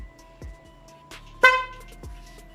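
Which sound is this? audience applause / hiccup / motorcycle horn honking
motorcycle horn honking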